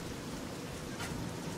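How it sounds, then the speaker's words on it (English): Steady rain falls in the video game Fallout 3, a constant soft hiss with no voices. "And it's raining again."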